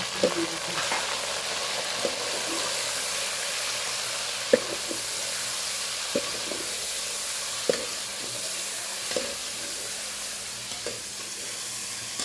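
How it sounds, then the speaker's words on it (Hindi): Browned onion and garlic frying in oil for a chicken and spinach dish, a steady close sizzle with occasional knocks and scrapes of a stirring spoon, no talk. "प्याज और लहसुन ब्राउन हो गया है।"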